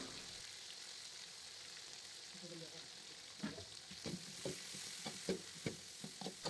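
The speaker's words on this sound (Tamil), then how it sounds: "ரெண்டு வெங்காயத்தை சேர்த்து நல்லா வதக்கிக்கலாம்" Onions sizzle quietly in oil with dried chili and curry leaves for vatha kuzhambu, a faint steady frying hiss at first, then soft repeated scraping strokes of stirring join in and continue to the end.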